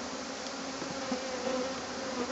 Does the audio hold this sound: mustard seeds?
no